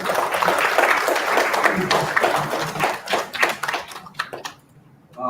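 Workshop audience applause, a sustained round of many hands clapping that thins into a few scattered claps and fades out near the end.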